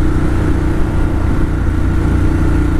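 A 2018 Ducati Monster 1200S idles close by with an aftermarket exhaust, its deep, steady, throbbing rumble loud and unbroken.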